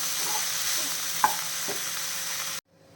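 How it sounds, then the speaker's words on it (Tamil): Soaked poha (flattened rice) with coconut being stirred in a pan over low flame, a steady soft sizzle with a spoon scrape or two, close and continuous, then cutting off abruptly near the end. "இந்த அவளை சேர்த்துறோம் சேர்த்து நல்லா கிளறி விட்டுடலாம்"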